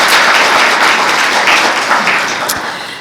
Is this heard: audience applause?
yes